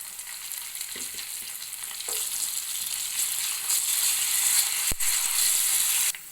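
Radish pieces fry in a pan with chillies and salt as curry leaves go in, giving a steady close sizzle with a few scraping stirs and a sharp clack near the end, no voices.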